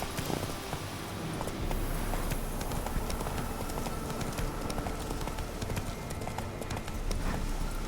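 The horse Roach galloping in The Witcher 3, a rapid, continuous drumming of hooves on the ground, loud and close for the whole stretch with no talking.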